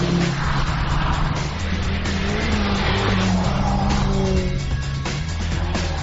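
A BMW E30 M3 driven hard on a track, its engine roaring loud and close throughout with tyres squealing as the car slides through a corner, no talk over it.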